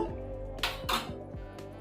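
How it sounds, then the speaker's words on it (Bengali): Boiled moringa drumstick pieces are tipped out of a cooking pot into another vessel, with a few sharp metallic clinks and clatters of cookware over a low kitchen background. Faint and close, with no talking. "আমি এবারে একটা জায়গার মধ্যে ঢেলে নেব"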